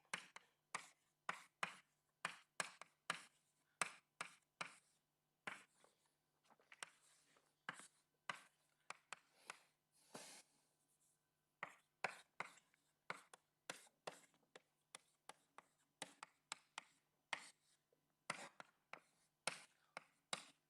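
A lecturer writing equations on a board during a fluid dynamics lecture, a long run of quick tapping and scratching chalk strokes in bursts with short pauses, close and without talk.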